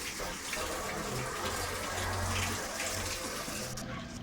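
Water pours into the tub of a top-loading LG inverter washing machine as it fills, a continuous close gushing rush with a low churning rumble underneath and no speech.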